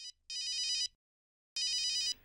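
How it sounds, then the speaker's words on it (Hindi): A telephone rings in two bursts of bright electronic trilling: a short ring, then a longer one, a second of silence, and a final long ring, close and clear with no talking. "डॉक्टर नियति का फोन है"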